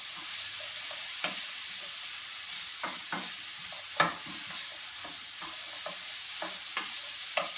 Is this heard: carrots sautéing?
yes